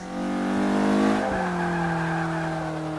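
A racing car engine in the video game Forza 5 whines at high revs, then drops pitch as it shifts down, with a brief tyre screech; loud and close, no talking.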